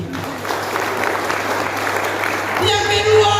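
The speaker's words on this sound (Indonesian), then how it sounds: "Beri tepuk tangan untuk Tuhan kita" A church congregation at a Pentecost service applauds with steady, sustained clapping from many hands, and a voice talks over it near the end.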